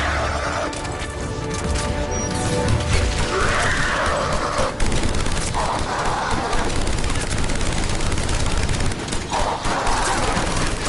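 Heavy gunfire in Mass Effect 3 pours out in a constant loud fusillade, rapid shots layered with clanks and crashes throughout and no clear voices cutting through.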